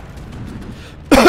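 A single sharp cough bursts out near the end of a short stretch of quiet background hum during a gaming session.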